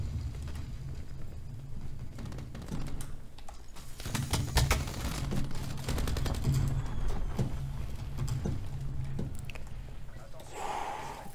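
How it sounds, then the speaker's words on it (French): Gunfire in the online shooter Call of Duty Black Ops 4 on the Summit map, with rapid clattering bursts over a steady game background, loudest mid-clip and continuing in sustained volleys. "Je me suis pris des balles par là, mais j'ai pas vu exactement d'où."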